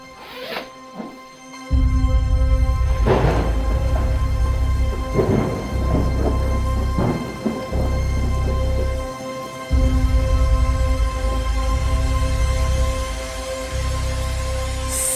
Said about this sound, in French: il pleut sacrément fort dehors